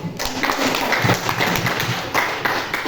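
Students in a classroom give a brief burst of dense, steady clapping that lasts a few seconds at moderate loudness.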